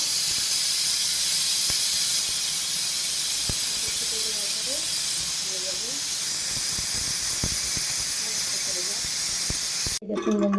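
A pressure cooker whistles with escaping steam while potato and pea curry cooks, a loud continuous hissing jet that fills the whole stretch before cutting off abruptly near the end.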